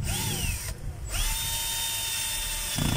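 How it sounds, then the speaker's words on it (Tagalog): A cordless screwdriver drives screws in short whirring bursts, with rising motor pitch and brief pauses between runs, close and fairly loud with no talk. "Laking tulong yung cordless na screwdriver"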